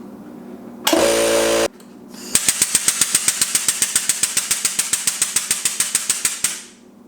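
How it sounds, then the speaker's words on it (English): An air compressor in a garage setup near a Mustang LS swap: a short burst of hissing air, then a rapid, even, loud mechanical pumping chatter for about four seconds that winds down and stops. "Here's the air compressor here."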